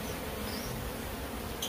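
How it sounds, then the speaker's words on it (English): Big killer bees fly around a shed, producing a dense, continuous buzzing swarm close to the microphone, heard alone without talk. "I can see, you see all these big bees flying around?"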